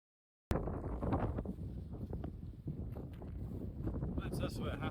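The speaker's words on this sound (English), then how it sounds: "I think it's very windy." Strong wind gusting across an open mountainside on Beinn Ime, a steady roaring buffet against the microphone with brief lulls, loud and continuous throughout after a moment of silence at the start.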